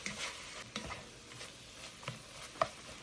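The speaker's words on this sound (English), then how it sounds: "continue stirring it up until the water starts to release from the beef" Ground beef seasoned with salt and pepper is stirred in a pan, soft scraping strokes at an irregular pace over a steady low sizzle, close by with no talking.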